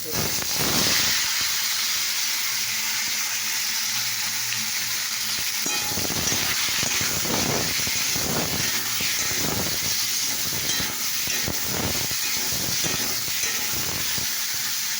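Potatoes and tomatoes sizzle in a hot pan with panch phoron and bay leaf, a steady close frying hiss throughout with bursts of stirring and scraping in the second half, no talk.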